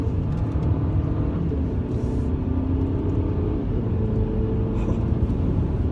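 A 2018 Mercedes C300 cruises along a road, heard from inside as a steady low engine and road rumble with faint tire hiss and a slight rise in pitch midway.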